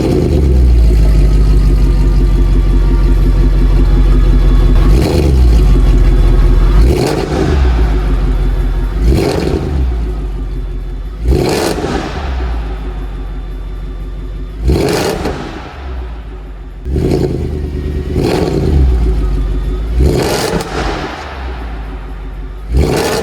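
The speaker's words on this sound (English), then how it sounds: "you guys can hear a proper cold start from this vehicle" A car engine on a cold start rumbles loudly and continuously, with repeated sharp revs that rise and fall every couple of seconds over a deep, steady idle.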